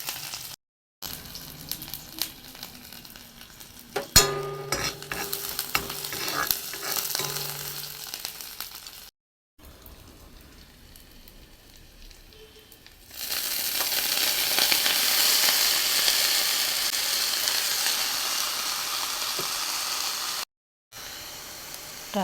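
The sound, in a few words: onion, ginger and garlic frying in a pan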